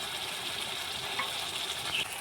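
Spice paste for egg biryani fries in oil in a pan, giving a soft, continuous sizzle with a few faint pops, quiet and close with no other sounds.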